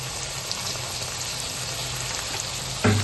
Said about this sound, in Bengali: আর রসুন দিয়ে আমরা আবারও ভালো করে পুরো বিষয়টা নাড়িয়ে নিচ্ছি